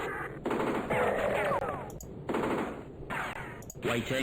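Machine gun fire from the Spellcross strategy game, several loud sustained bursts of rapid fire with brief gaps between them, while a voice talks over the shooting.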